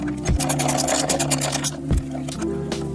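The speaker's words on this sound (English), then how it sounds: "You're gonna need a 5mm Allen socket, and then you're gonna come up to this bolt right here. You're gonna crack that loose." A 5mm Allen socket on a ratchet loosens a bolt on a Triumph Tiger 900 motorcycle, giving a rapid buzzing ratchet clicking close up, interrupted by a couple of sharp knocks.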